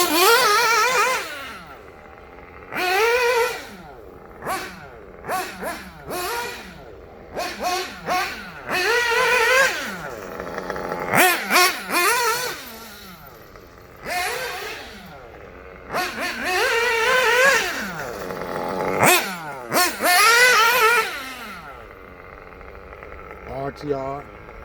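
A ready-to-run Kyosho Inferno Neo 2.0 RC buggy with a stock Kyosho KE21 nitro engine and a Dynamite 053 exhaust revs loudly in repeated bursts, its pitch rising and falling with short pauses between throttle blips.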